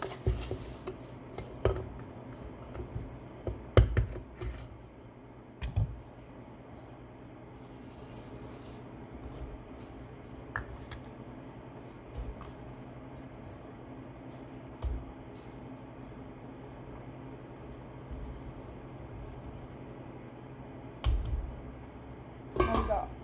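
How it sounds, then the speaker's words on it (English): A spoon scrapes and clinks against a pot as rice is stirred in with vegetables, with intermittent knocks and soft squishy stirring over a quiet background, and a voice speaking at times. "I got all my rice stirred in"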